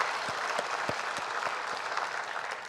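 A church congregation claps in praise during a 65th founding anniversary service, a soft, even spread of applause with a few heavier, distinct claps standing out from the rest.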